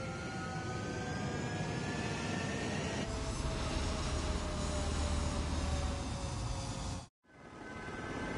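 A fighter jet taking off in the video game Ace Combat 7 gives a steady, loud engine roar with rising whine tones. The roar drops out briefly near the end, then swells back.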